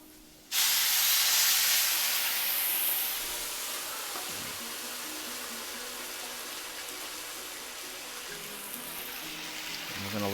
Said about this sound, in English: We're gonna add in 2 cups of our broth